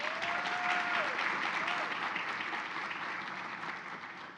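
An audience at a Black graduate celebration applauds a guest speaker, dense sustained clapping with a short whistle or cheer early on, gradually easing in loudness over four seconds.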